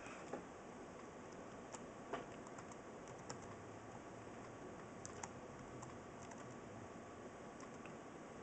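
Typing a username and password on a computer keyboard for a Pokemon Moon game sync, with faint, irregular keystroke clicks and a few slightly sharper taps over a steady low background hiss.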